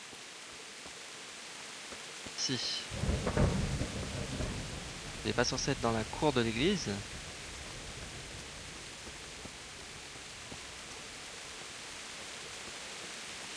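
Steady rain with a low rumble of thunder in the video game Kingdom Come: Deliverance, a constant hiss throughout with a voice speaking briefly over it in the middle.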